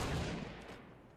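A sniper rifle shot in Fortnite lands as one loud, near blast at the start, its boom decaying quickly into a fading tail with no talk over it.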